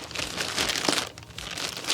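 A Carhartt plastic shipping bag being cut open, with close crinkling and rustling in short irregular bursts.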